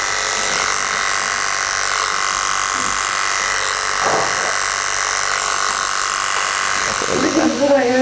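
Electric pet clippers buzzing steadily and loudly at close range during dog grooming at a grooming salon, with people talking over the hum.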